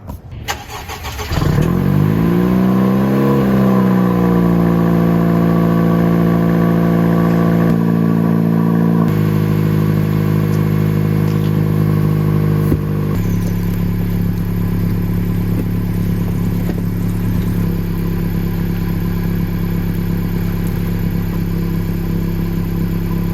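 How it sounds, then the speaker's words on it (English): A 10th generation Honda Civic coupe starts up and idles, its aftermarket exhaust holding a steady, fairly loud, close drone with small shifts in pitch and no talk. "We're gonna listen to this weak exhaust."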